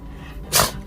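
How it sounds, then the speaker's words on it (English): A small dog gives one short, sharp bark close by, rising abruptly out of a low, steady indoor hum and fading within a fraction of a second. "Is that who you're barking at?"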